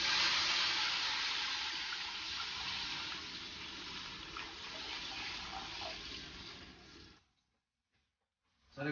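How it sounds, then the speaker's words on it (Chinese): Water runs steadily into a cooking pot that already holds fried scallion pieces, a continuous splashing pour lasting about seven seconds before cutting off abruptly into silence. "然后来加水，"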